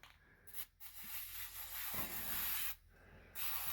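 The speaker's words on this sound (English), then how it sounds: "I'm going to spray the laminates" Steady hissing spray bursts from an aerosol can spraying the laminates during a Tecumseh 5HP snowblower engine repair run nearly continuously, broken by two short pauses, close and fairly loud.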